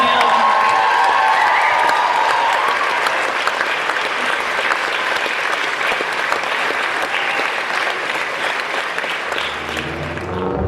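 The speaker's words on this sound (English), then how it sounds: "keep the round of applause going for the Liberty Theater and the Oregon Film Museum" At the Liberty Theater in Astoria, Oregon, during the Goonies 40th anniversary weekend, a large audience applauds and cheers, with loud continuous clapping, scattered whoops and crowd voices, and music-like tones in the background, fading slightly toward the end.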